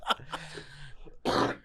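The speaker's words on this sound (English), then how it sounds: "do you hear the cough?" A person coughs a few times: a short sharp cough, a lower throat-clearing rasp, then a louder final cough, close up with no talking.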